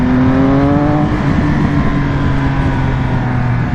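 A 2020 Triumph Speed Triple RS engine pulling under acceleration, a loud, close, continuous drone rising gradually in pitch beneath heavy wind rush.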